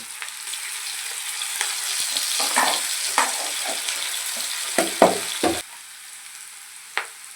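Vegetables frying in a pan with salt and ginger garlic paste, a steady close sizzle with intermittent scraping stir strokes and clanks, the sizzle dropping quieter near the end.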